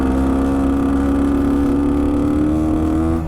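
A Bultaco Alpina 350 motorcycle engine runs loud and close, revving steadily with a strong low harmonic drone that wavers slightly as the throttle shifts through flat spots, with no voices.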